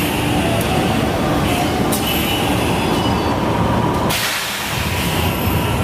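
Tokyo Metro 5000 series electric train running with a prolonged high metallic brake squeal over rumbling wheels, the rumble briefly dropping near the end.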